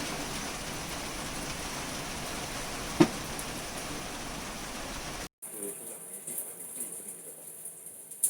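Rain falls outside on a cool day, a soft steady hiss that cuts off abruptly partway through and gives way to quieter, sparser sounds.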